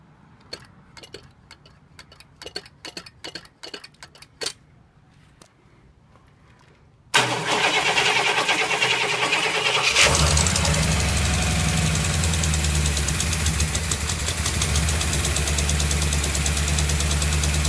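A big Cadillac 8.4L 500ci engine being started with fuel: several seconds of sparse clicking and ticking give way to a loud burst, then a steady, heavy, close-up roar as it runs.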